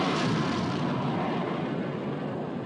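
Naval guns open fire in a war film about sinking the Bismarck, a loud, continuous rumbling roar that fills the whole stretch without breaks.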